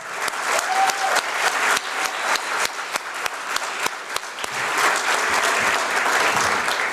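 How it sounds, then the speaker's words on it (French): Audience applause at an evening gala, a dense sustained round of clapping from a crowd that carries on steadily throughout with no talking over it. "Annabelle, je pense qu'on lui doit tous une main d'applaudissement"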